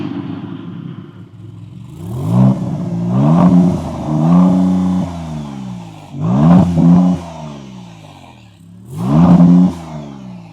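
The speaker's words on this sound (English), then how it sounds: "We're going to start it up so you can hear it" A 2023 Maserati MC20 starts up and revs hard, giving several loud, close bursts that rise and fall with a deep rumble between them.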